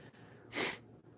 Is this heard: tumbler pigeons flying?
no